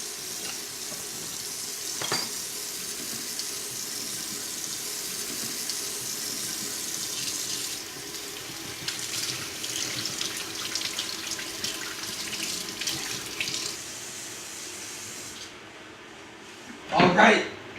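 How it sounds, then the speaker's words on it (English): Tap water runs steadily into a kitchen sink as hands are washed, a continuous hiss with splashy changes partway through, then it cuts off and is followed by a brief loud clatter. "now that we're finished washing our hands"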